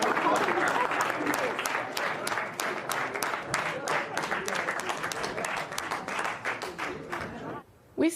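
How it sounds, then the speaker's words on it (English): Republican senators at a meeting applaud Trump with sustained, vigorous clapping that fills the room for about seven and a half seconds before cutting off abruptly near the end. "Why were you clapping so vigorously there?"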